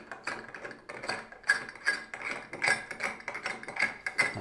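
Special tool fitted into the slots of a Moen bathroom faucet cartridge and turned to undo it, a close series of irregular metallic clicks and scraping knocks.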